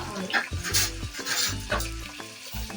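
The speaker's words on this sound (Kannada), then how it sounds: "ಫ್ರೈ ಮಾಡ್ಕೊಳ್ಳಿ ಚೆನ್ನಾಗಿ." Potato and capsicum fry in a pan with a loud, close sizzle, while a utensil stirs and scrapes through it with a few distinct knocks.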